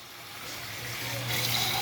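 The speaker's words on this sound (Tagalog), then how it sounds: "Tapos lalagyan po natin ng tubig." Water pours into a pot of pork humba with soy sauce, a steady splashing gush that swells louder toward the end, with no talking.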